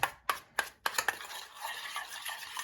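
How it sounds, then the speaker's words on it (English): Seasoned ground burger meat mixed with a spoon: several sharp knocks against the bowl at first, then a soft continuous wet stirring and squelching, close and alone. "reach in here and grab a spoon here, and I will mix it all together"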